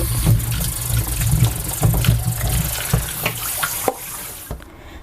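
Tap water runs steadily into a sink while lemons are rinsed by hand, with splashing and knocks, close and fairly loud before the flow stops at the end.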